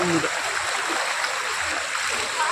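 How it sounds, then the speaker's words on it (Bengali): Flood water rushes in a strong current through a flooded area of Hooghly and Howrah, making a steady, loud broadband roar that continues without a break. "এখানটা প্রচণ্ড স্রোত দেখো বন্ধুরা"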